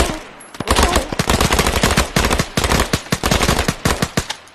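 Sustained machine gun fire in the Arma 3 video game, loud and close, rapid bursts of shots rattling almost without pause after a brief quiet start.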